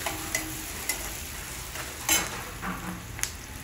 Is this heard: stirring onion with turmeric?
yes